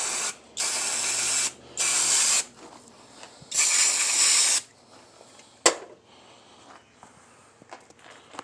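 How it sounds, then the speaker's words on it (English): Three sustained hissing bursts of AutoZone brake cleaner sprayed onto Honda Pioneer wheel bearing parts, each a second or so long and loud, followed by a sharp clank and softer handling noises. "I'm just using brake cleaner from AutoZone."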